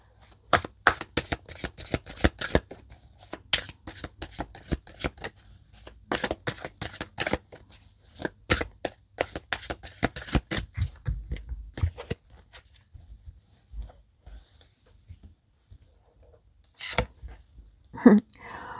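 Tarot cards are shuffled close by in quick bursts of crisp riffling and flicking, pausing now and then, with a brief noise at the very end.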